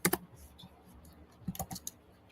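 Quick bursts of clicking keystrokes on a computer keyboard during an online support session, fast and irregular with short pauses between flurries, fairly close and moderately loud with no talking.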